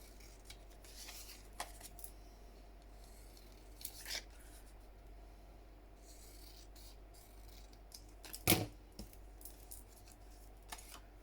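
Scissors trimming paper for a journal page, faint scattered snips and rustles at a quiet desk, with one sharper cut near the end and no talking.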